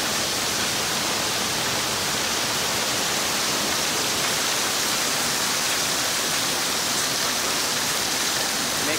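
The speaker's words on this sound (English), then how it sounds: "Now look at all that hail." Hail pours down outdoors in Missoula as a loud, dense, unbroken hiss of countless impacts that stays steady throughout, with no clear voices.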